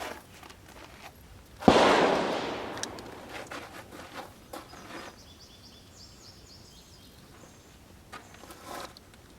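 A single sharp shot from a Taurus PT738 pistol in .380 auto cracks outdoors, followed by a fading echo, with faint birds and ambient noise afterward.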